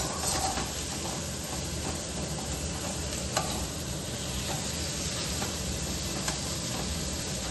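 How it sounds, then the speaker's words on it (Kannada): Green chilly chicken fries steadily in a pan, a continuous dense sizzle with faint stirring ticks and occasional sharper clicks, close and even throughout with no talking. "2 ಇಂದ 3 ನಿಮಿಷ ಫ್ರೈ ಮಾಡಿ"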